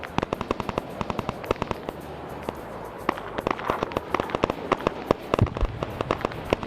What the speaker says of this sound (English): And you're hearing mines going off as the QRF are coming in themselves.